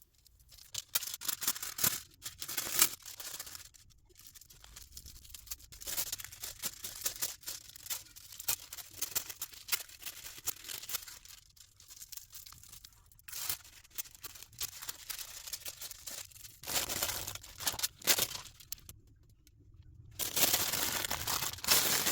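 Golden foil is handled and crinkled while decorating an epoxy resin potion bottle, with dense bursts of crisp rustling and tearing that come and go, close and fairly loud, separated by brief quiet gaps and no talk.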